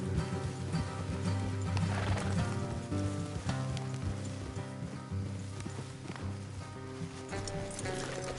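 Steady clip-clop of horse hooves in Red Dead Redemption 2, continuous and rhythmic, set against a dense musical game soundtrack with no talking.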